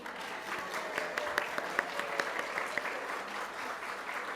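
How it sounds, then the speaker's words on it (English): A church congregation at a Unitarian Universalist service applauds graduating students, steady, fairly distant clapping filling the room throughout with a few sharper individual claps. "I hope you have your clapping hands ready because we're going to do it one more time."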